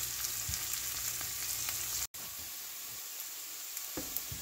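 Spices and aromatics for a Jaffna-style cassava milk curry sizzle and fry steadily in a pan, a close continuous hiss with faint occasional stirring scrapes.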